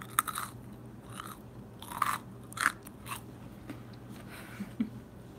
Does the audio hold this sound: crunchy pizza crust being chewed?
yes